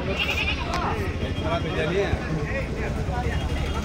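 Goats bleating at a busy Tuesday goat market in Kadiri, a dense crowd murmur with overlapping calls and people talking throughout.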